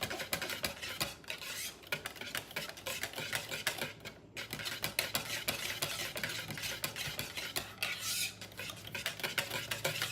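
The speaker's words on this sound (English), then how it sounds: "2 minutes seems like a long time when you're whisking" A chipotle lime dressing is whisked in a bowl, giving a fast, steady clatter of metal tines ticking against the sides, close and continuous with only a brief pause, and no talking.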